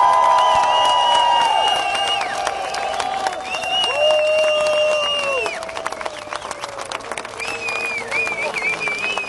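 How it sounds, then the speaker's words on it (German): Audience applause and cheering at a rockabilly pin-up contest show, sustained clapping from a crowd with bright whistles and shouts on top, thinning toward the end. "den Applaus für diese Dame"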